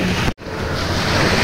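Steady roar of surf and wind at a Boracay beach shoreline, loud and continuous, with a momentary dropout near the start.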